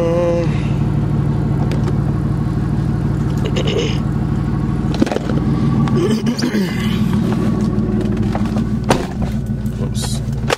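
A loud BMW E46 car engine idles steadily with a deep, constant rumble, broken by a few brief clunks and knocks.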